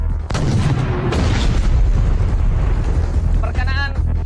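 Heavy artillery guns fire in a scene from an Indonesian war film, with a deep booming blast at the start and another about a second later, each followed by a long rumbling roar that fills the rest of the scene.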